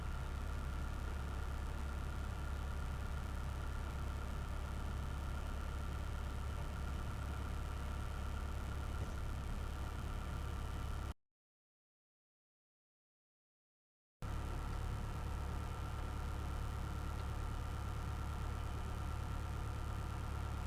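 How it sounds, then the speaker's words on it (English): Engine of a Zenith CH-750 Cruzer light aircraft idling on the ground while warming up, a steady low rumble with no change in rhythm, cut by a few seconds of silence in the middle. "we just sit here and wait for the engine to warm up"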